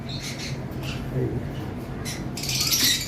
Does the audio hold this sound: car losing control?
no